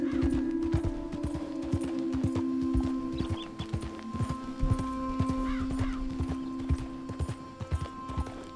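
A horse gallops and neighs in the video game Red Dead Redemption 2. Rapid hoofbeats run steadily throughout, with whinnies early on and a low tonal game soundtrack underneath.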